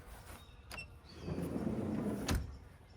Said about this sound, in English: Now when I slide this out,